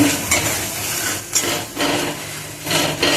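Spices sautéed in oil in a pan while making a homemade Maharashtrian brinjal (vangyachi) bhaji, with onion-garlic masala stirring and sizzling close by, punctuated by a few scraping utensil strokes.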